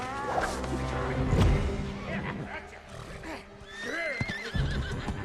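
Horse neighing amid a dramatic battle scene from Rings of Power, a loud whinny with rising and falling cries mixed with roaring effects and rumbling score, with a brief voice in the mix.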